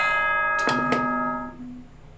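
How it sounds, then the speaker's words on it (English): A bell rings in the video game Danganronpa 2, two quick chime strikes over a sustained musical tone that fades out, clean and close with no talking. "there's the bell"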